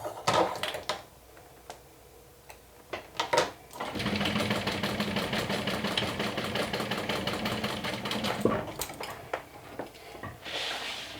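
A sewing machine stitches a Nintendo Switch case made from a modified Sew Sweetness Hackney pattern. Its steady, close motor whir runs for several seconds, with scattered clicks and handling sounds before and after.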